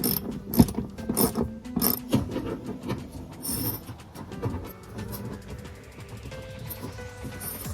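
Bolts being snugged down with a ratchet on a Nissan 370Z Nismo during routine maintenance, rapid clicking bursts and metallic ticks at close range, followed by quieter rattling.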